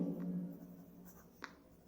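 Chalk or marker strokes on a classroom board as a teacher writes during an English grammar lesson, a soft continuous scratching for about half a second and then fading, close and fairly quiet.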